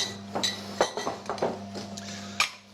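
Spoon stirring a chocolate mixture in a bowl, producing irregular clinks and scrapes at close range over a low background hum.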